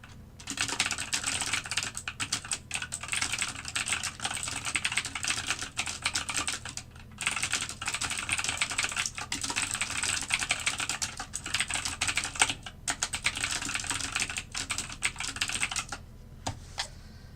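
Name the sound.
typing on a computer keyboard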